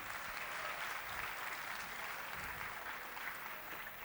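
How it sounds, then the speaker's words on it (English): An audience applauds a film team at an event, steady, dense clapping that stays loud and even for the whole stretch, with no voices standing out. "Can you all please give them a big round of applause for the film?"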